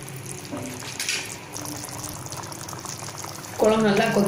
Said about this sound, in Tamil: குழம்பு நல்லா கொதிச்சு திக்காகி எண்ணெயில் மேலே வந்துச்சு.